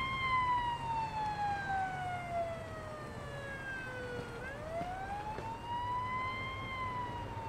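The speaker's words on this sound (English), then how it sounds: "Because of the sirens?" A police car siren in the Police Simulator patrol game wails slowly down and back up in a single long sweep, steady and fairly close over a low engine rumble.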